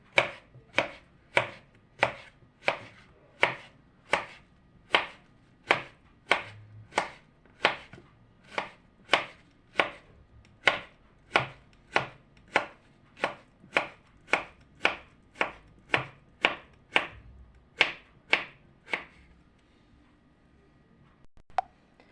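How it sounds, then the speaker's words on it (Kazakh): Cucumber sliced thinly with a knife on a board, a steady run of about thirty crisp, evenly spaced chops that stop near the end, alone with no talk. "Осылай жұқалап қиярымызды турап аламыз."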